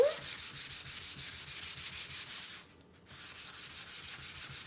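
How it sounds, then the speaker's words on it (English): Steady, rhythmic rubbing strokes of wet sandpaper on a chalkboard surface in a picture frame, continuing for several seconds with one brief pause, close and moderately loud. "Then I do a quick little wet sanding."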